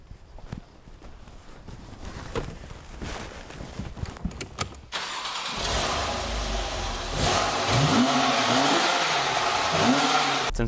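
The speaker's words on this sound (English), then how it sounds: "rev the engine a little bit so you can hear the exhaust" A 2013 Porsche 911 Carrera 4 cabriolet, warmed up, revs its engine several times. The exhaust swells from a low idle into loud, rising and falling roars near the end.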